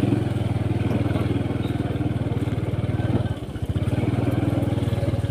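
A motorcycle engine runs steadily close by with a throbbing mid-low drone and clatter, dipping briefly partway through before resuming, at a dam outing in Looc, Nasugbu, Batangas.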